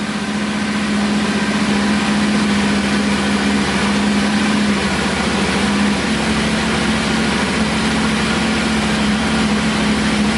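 A Yamaha Tenere 700 motorcycle engine idles steadily and loudly close up, a constant even drone with a low hum running unchanged throughout and no voices.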